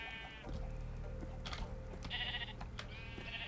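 Sheep bleating in Minecraft, several short game bleats over a steady low background hum, fairly close and clear with no talking.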